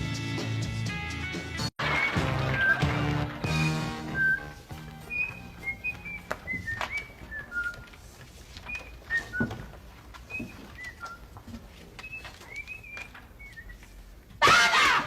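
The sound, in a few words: whistling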